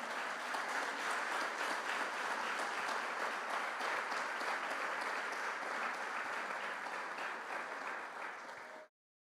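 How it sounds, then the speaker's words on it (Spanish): Congregation at a church service gives a strong applause to God, a dense, even wash of many hands clapping that holds steady, then cuts off abruptly. "Denle un fuerte aplauso a Dios."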